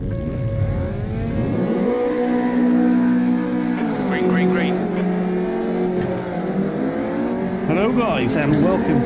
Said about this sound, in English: We are currently in the Caterham Superlight.